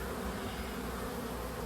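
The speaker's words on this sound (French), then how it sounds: "C'est l'appel qu'il y a à l'entrée de la ruche." Honeybees from a swarm lodged at a window drone at the hive entrance, a steady, dense buzzing hum that stays close and even throughout with no pauses or voices.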